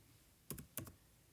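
Two quick, faint clicks from a computer keyboard as a flight plan is typed in, a short double tap in a quiet room.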